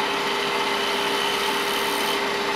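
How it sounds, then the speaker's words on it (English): A scraper shear-scraping wood on a lathe while turning a pocket mirror, a steady continuous raspy scratching with a constant motor hum beneath, close and unbroken, with no talking. "Now here we're going to try for a shear scrape before we sand."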